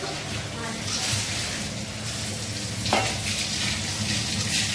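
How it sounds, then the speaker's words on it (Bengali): Eggs frying in a pan give off a steady, close sizzle with stirring and scraping, continuous throughout at a moderate level. "ডিমগুলো ভাজা শুরু হয়ে গেছে"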